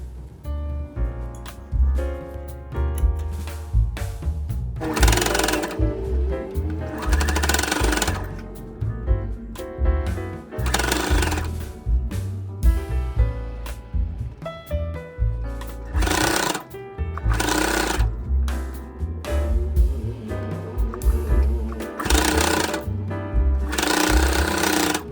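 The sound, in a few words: sewing machine stitching fabric bag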